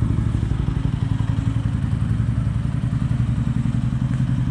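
A TVS Ronin 250 motorcycle engine running steadily with a rapid, throbbing pulse and mechanical clatter, loud and close, no talking.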